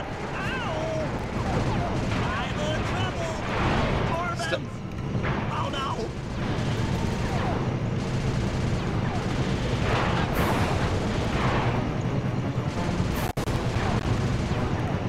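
Gunfire sounds in a boss battle at a dam in Sly 2: Band of Thieves, with repeated shots and booming impacts over game music, while a person talks throughout.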